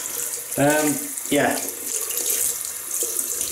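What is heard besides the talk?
tap water running to wet a shaving brush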